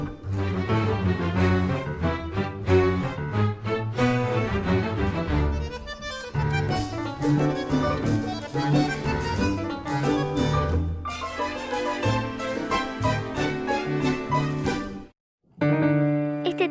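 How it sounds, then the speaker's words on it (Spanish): Old guardia vieja style tango plays as a lively ensemble piece with crisp, rhythmic accented notes and a bright melody, steady and close, before cutting out briefly near the end and resuming. "A esta primera etapa del tango se la conoce como guardia vieja y suena así."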